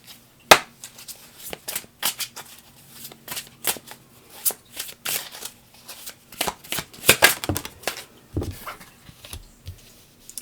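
Tarot cards are shuffled by hand in a rapid, irregular run of papery flicks and slaps, close and fairly crisp, with a soft voice barely present.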